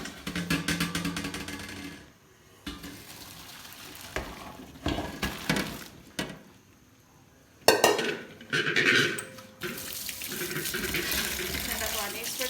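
Boiled noodles are poured off and strained in a home kitchen, with bursts of splashing, running water and clattering pot sounds broken by quiet pauses, all close by.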